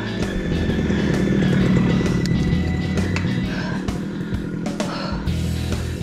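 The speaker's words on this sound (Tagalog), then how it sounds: "May motor!" A motorcycle engine drones loud and close on a steep uphill road at a falls campsite in Calauan, Laguna, its steady low rumble filling the whole stretch with no talk over it.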